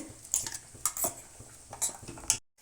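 A spoon clinks and scrapes against a metal sambar pot as ground coconut and green chilli paste is stirred in, a handful of sharp, close taps over quiet background.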